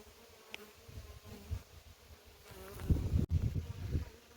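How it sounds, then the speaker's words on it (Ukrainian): Honeybees buzz close by at an open hive in uneven swells, with a few soft knocks and thumps mixed in, growing busier toward the end. "Так, бджоли мої злі, як ніколи."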